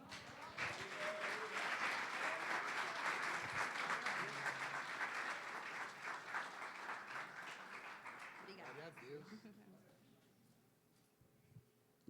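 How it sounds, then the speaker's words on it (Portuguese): A church congregation claps together at a Sunday family worship service, sustained broadband applause for about nine seconds before tapering off into quiet, with a few murmured voices under it. "Aplauda o Senhor, amém?"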